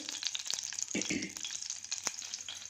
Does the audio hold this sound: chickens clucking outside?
no